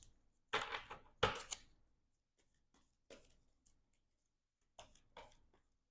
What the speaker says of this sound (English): let's shuffle up our player deck